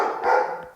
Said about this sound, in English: so ignore the barking